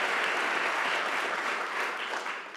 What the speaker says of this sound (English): So once again, a round of applause.